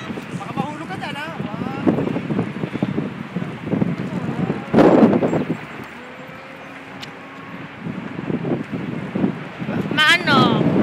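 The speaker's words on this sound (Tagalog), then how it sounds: "Lakas na hangin!" Strong, cold wind at the Golden Gate in San Francisco buffets the microphone in a steady roar, with people talking over it and a brief louder gust partway through.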